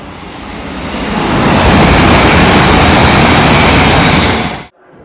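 A train passes through a UK station with a loud, broad rumbling roar that builds and holds steady for several seconds, then cuts off, with no voices.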